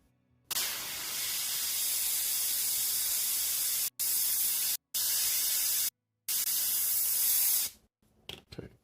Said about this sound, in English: I am kind of scuffing this because my airbrush is super gunked up.